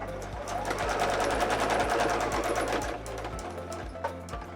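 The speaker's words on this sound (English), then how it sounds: "I'm going to sew over it again with another row of stitches." Sewing machine stitching fabric pieces of a zipper pouch, a close, steady rapid needle chatter with a regular low thump, slowing slightly near the end, no talking.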